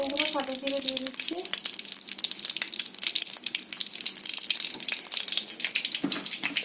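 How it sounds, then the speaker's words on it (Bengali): Black cumin seeds dropped into hot oil in a wok give a sharp, crackling sizzle that carries on steadily at close range, with a voice talking briefly at the start. "কালো জিরে দিয়ে দিচ্ছি।"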